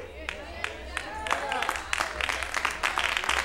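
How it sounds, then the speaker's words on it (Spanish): Congregation applauding in a church service, scattered claps building into a denser burst, with voices and speech heard over the clapping and a low hum beneath. "Ese aplauso es para el Señor."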